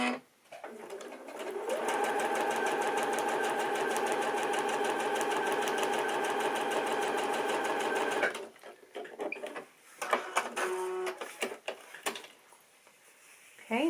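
A domestic sewing machine stitching quilt binding runs steadily for about seven seconds in a continuous mechanical whir, then stops, followed by clicks and handling noises as the fabric is adjusted.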